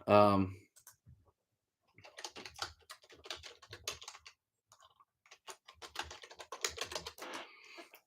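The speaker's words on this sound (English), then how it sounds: "I just typed it in there." Bursts of computer keyboard typing, fast irregular clicks coming in clusters after a brief spoken word at the start, close and fairly quiet.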